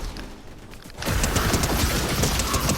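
Dense, continuous gunfire in the Fortnite video game, beginning after a quiet second and then running as loud, rapid overlapping shots that carry through to the end.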